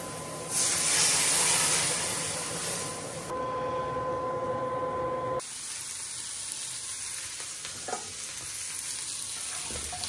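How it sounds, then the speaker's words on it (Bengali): Broth hits a hot pan of curry with a loud hissing sizzle that surges, briefly dips, then settles into a steady bubbling fry, close up with no talking. "ঝোল দিয়ে দিলাম"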